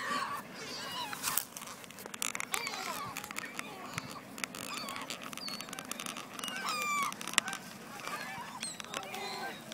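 A flock of geese or similar fowl honk and call repeatedly around a running child outdoors, with wingbeats and a voice faintly mixed into steady outdoor noise.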